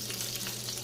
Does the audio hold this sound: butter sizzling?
yes